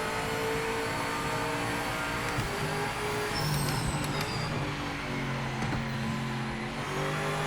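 Race car engine at Imola in Project Motor Racing, a continuous droning note that steps between gears as the driver shifts down from fifth to fourth and trail brakes, with brief sharper bursts partway through; no talking.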